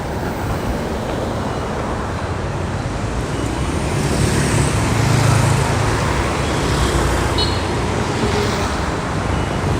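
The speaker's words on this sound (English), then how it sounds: "Bloody cars." Steady traffic rumbles along a busy street in Hanoi, Vietnam, a continuous wash of passing cars and motorbikes swelling slightly midway, with no voices rising above it.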